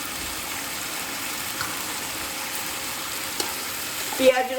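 Ginger paste, green chilli paste, salt and turmeric fry in oil for a katla fish curry, producing a steady moderate sizzle with light stirring taps and a brief bubbling splash near the end.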